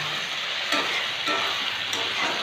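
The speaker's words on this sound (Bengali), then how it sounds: "এই যে মাংস থেকে তেল ছেড়ে দিয়েছে, কষানো প্রায় হয়ে এসছে।" Country chicken sautéing in oil in a pan, with a continuous close sizzle and soft periodic scrapes from stirring, steady and loud with no talking.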